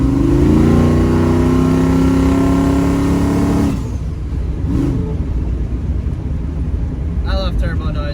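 Turbocharged Ford Fairmont cruising, its engine droning loud and steady with rising harmonic whine before easing off, followed by quieter road rumble and a few brief high whistling turbo chirps near the end.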